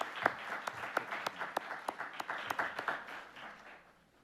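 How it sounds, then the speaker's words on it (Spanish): Audience applause for a speaker at an international arbitration panel, a steady run of sharp claps from a medium-sized crowd that tapers off toward the end, with no talking. "También pedimos un aplauso para él."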